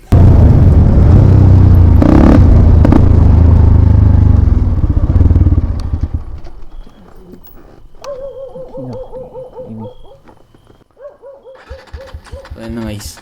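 An XR 150 motorcycle that stalled on the road sputters loudly and briefly for the first few seconds, then cuts out, followed by quieter clicking and whirring as starting is attempted; faint other sounds sit in the background.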